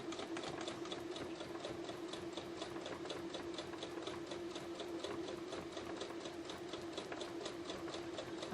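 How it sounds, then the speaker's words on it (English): A sewing machine stitching and back tacking a bulky quilt seam for a Kimberbell Pumpkins & Potions quilt: a steady, rapid mechanical chatter of needle strokes running continuously at an even pace, close and alone. "so I'm going to start and back tack."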